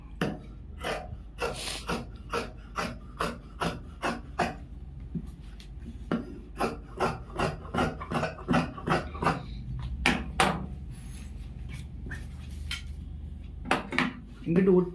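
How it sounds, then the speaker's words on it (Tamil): Scissors cut the back piece of a gents' pant from fabric at a tailoring shop. Repeated crisp metallic snips come in a steady rhythm and sound close, with faint talk in the background. "பேக் வெட்டுவதை எல்லாரும் கவனிங்க."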